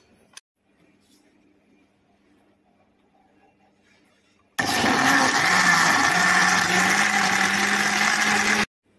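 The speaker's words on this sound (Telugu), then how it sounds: "ఐస్ క్యూబ్స్ వేసిన తర్వాత షుగర్ వేసుకొని మిక్సీ చేయడమేనండి" A kitchen mixer blends a banana milkshake with ice cubes and sugar, starting abruptly after near silence and running as a loud, steady grinding whir for about four seconds before cutting off.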